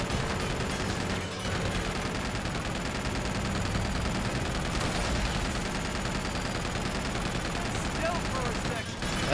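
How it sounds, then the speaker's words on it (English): Missiles are fired during a chaotic fight in Uncharted 2: Among Thieves. A dense, loud barrage of blasts and gunfire roars on without a break throughout. "Oh yeah, shoot those missiles."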